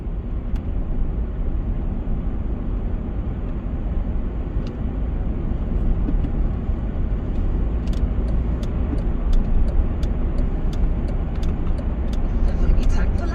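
Steady broadband road and engine roar of a car cruising the M4 motorway near Heathrow on a Saturday evening, continuous and even throughout with faint ticking and a few brief high clicks over the rumble.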